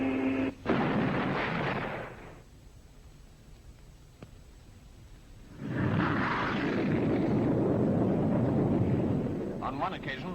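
de Havilland DH-110 jet in a supersonic dive breaking the sound barrier, a loud rolling boom-like roar that fades to a low rumble, then swells again into a long, heavy blast of jet noise; no voices are heard.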